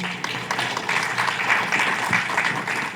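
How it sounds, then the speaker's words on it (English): Conference audience clapping at an international conference on electronic governance, a fairly loud, uneven patter of many hands that continues steadily from start to finish. "we should give her a round of applause"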